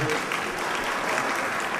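Warm applause from an audience honoring a band at a book signing event, a dense and even burst of clapping lasting a couple of seconds.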